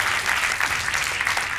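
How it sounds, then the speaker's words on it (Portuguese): Studio audience of a television quiz game show applauds a contestant, a brief burst of dense, even clapping from many hands, loud and close for its short duration. "Um aplauso para o Carlos, então."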